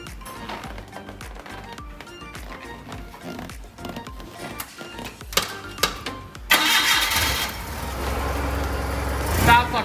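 A rusty car's engine cranks and catches into a loud, rough, rumbling idle after a stretch of clattering workshop noise.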